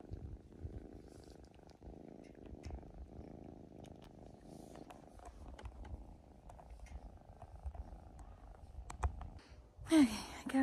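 A cat purrs steadily and close up, a low rhythmic rumble that continues throughout, with a brief louder noise near the end.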